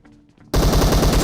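In the video game PUBG, after a quiet moment a burst of rapid automatic gunfire starts abruptly and loud, with fast rhythmic shots continuing to the end.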